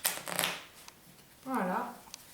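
Playing cards are falsely cut and shuffled during a card trick, giving a quick, close riffling burst at the start before someone speaks.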